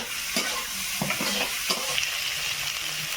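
Chopped onion, grated ginger and tomato fry and sizzle in a pan as a spoon stirs them, with steady hissing broken by several light scraping knocks of the utensil against the pan.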